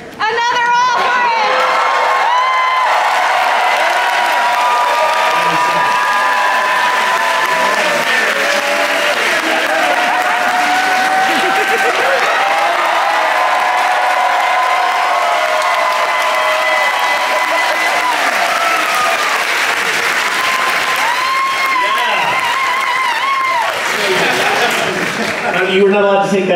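Sustained applause and cheering from a concert audience at an opening night show, loud and continuous throughout with whoops and crowd voices, fading slightly near the end.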